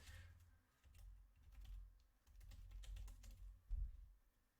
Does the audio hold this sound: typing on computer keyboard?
yes